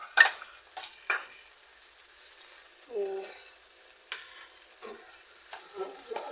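Ginataang puso ng saging (banana heart in coconut milk) is stirred in a pan with most of the liquid cooked off, giving a few quiet scrapes and soft sizzling bursts amid near silence.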